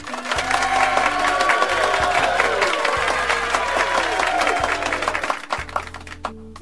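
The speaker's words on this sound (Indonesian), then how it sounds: "tepuk tangan untuk kita semuanya" Loud, dense applause from a crowd at a software pre-launch event, sustained clapping with a few scattered cheers, fading slightly at the end.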